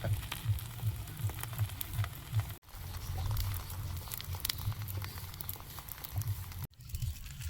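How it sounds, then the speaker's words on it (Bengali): Mixed garden vegetables frying in a small amount of oil, giving a steady close sizzle with light patter throughout and two brief dropouts, no voices. "যত কম তেলে ভাজা যায়"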